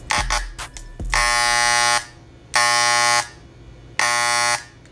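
Andis T-Outliner electric hair clippers buzz on in three bursts of strong, even droning hum, each about a second long, separated by short pauses, after some handling clicks; testing after a cord and plug repair.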